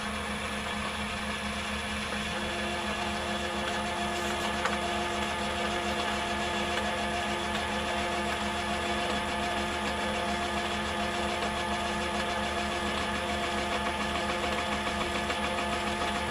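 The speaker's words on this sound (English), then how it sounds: "I keep it usually at as slow as I can get out of this lathe." A metal lathe turning brass at its slowest speed hums in a steady, even drone with constant tonal whine, unchanging and alone throughout at moderate level.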